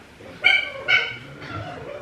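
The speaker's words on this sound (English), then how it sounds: "That noise was the dogs just... Oh yeah, they're having a little fight over there." A couple of sharp yelping barks followed by a whiny growl, dogs squabbling nearby, brief and fairly loud.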